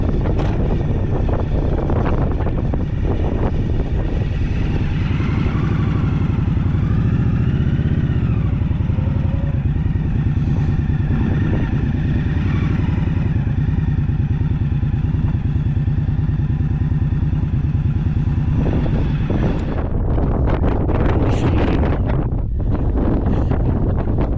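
A strong wind roars steadily on a mountain summit during a motorcycle ascent, buffeting the microphone with a low engine-like rumble underneath, loud and continuous for the whole stretch.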